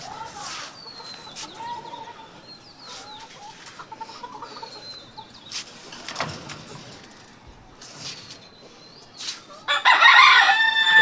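Chickens cluck and call on a rooftop, with a brief rooster crow breaking in near the end as the birds grow louder, fairly close and alone without talk.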